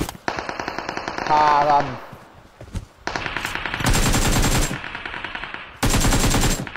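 Rapid machine gun fire from a video game, loud bursts of rattling shots broken by short pauses, with someone talking excitedly over the action.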